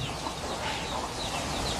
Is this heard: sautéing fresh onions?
no